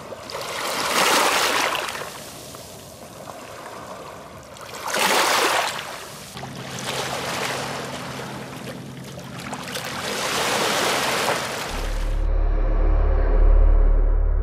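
Waves of the Sea of Japan at Vladivostok wash in and recede in broad, hissing surges a few seconds apart, and a low motor rumble rises near the end.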